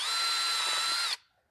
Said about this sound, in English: So then I'll drill this hole.